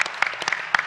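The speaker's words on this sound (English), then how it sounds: "One big round of applause for Matthew and driving" Short burst of audience applause at a tech project presentation, a few distinct loud claps standing out over a thin, brief patter of clapping.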